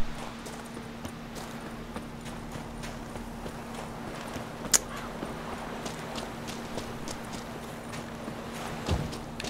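Horse hooves clip-clop at a steady walking rhythm in The Witcher 3: Wild Hunt, moderately near, over a low steady hum.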